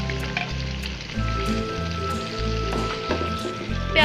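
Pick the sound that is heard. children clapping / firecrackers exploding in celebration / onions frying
onions frying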